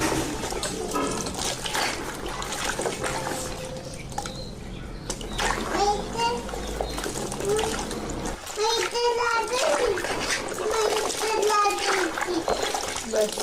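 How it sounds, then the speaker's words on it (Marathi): Fresh turmeric roots are rinsed in water, with steady splashing and sloshing under ongoing talk from a woman and a child. "ही हळद आपल्याला 2 ते 3 वेळा पाण्यानं स्वच्छ धुवून घ्यायची"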